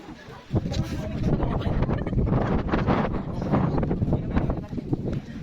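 Strong, cold mountain wind buffets the microphone with a steady, rough rumble and gusty roar, loud and continuous throughout.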